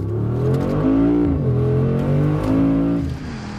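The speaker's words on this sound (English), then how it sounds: "A big turn and return to the home straight when kickdown is activated." A powerful Mercedes-Benz SUV on a test track accelerates hard under kickdown, its engine revving up, easing off and surging again, loud and close with no talk.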